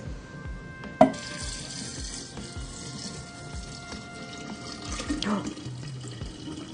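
Kombucha liquid poured over SCOBYs in a jar, a soft running trickle with a sharp knock of glass near the start and a brief splash later, close and moderately quiet.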